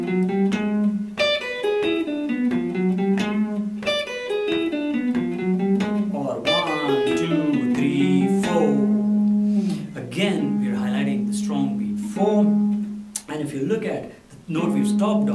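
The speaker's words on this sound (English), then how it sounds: "melodic fragment that we look at is something that makes use of eighth note triplets" A melodic phrase built on eighth-note triplets and chromatic steps is played on a sustained, pitched instrument, with notes moving in clear rhythmic groups before settling on a held tone.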